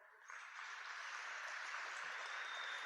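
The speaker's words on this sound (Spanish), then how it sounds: "ayúdame con un fuerte aplauso para el Señor" A church congregation applauds during a Spanish-language sermon, a dense, even burst of clapping that swells in quickly and holds steady to the end.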